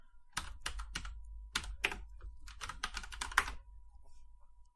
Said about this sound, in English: sorry for the clicking noise